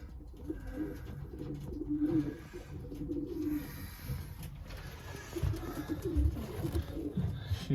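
Racing pigeons in a loft nest with young birds make low, repeated cooing calls. The calls sound close and continue throughout, with faint rustling and background noise.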